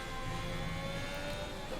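Sustained high-pitched whine of a Haas F1 car engine at speed on a straight in the F1 2022 video game at the Dutch GP, held near the top of its revs, steady, loud and close, with no voices.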